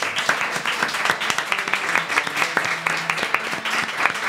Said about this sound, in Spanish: Quiero que deis un aplauso enorme a estas dos inventadas